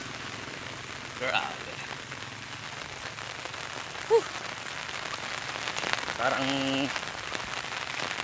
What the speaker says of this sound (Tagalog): kanina madilim lang yung langit pero ngayon umuulan na